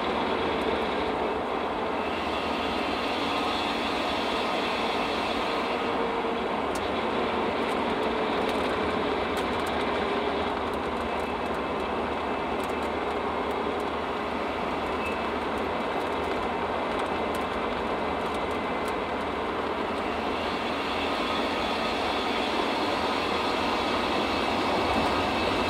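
A 1997 Ford Ranger with a rebuilt rear end driving along, giving a steady whirring drone under continuous road and engine noise, unbroken for the whole stretch with no talking.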